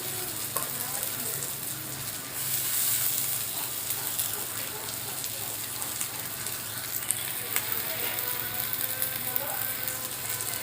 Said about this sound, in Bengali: মশলা খুব ভালোভাবে কষানো হয়ে গেছে, দিয়ে দেবো টমেটো কুচি।